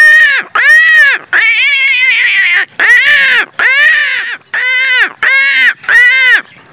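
A voice imitates crow calls to summon crows, a series of seven loud, harsh caws in a steady rhythm with short gaps, very close.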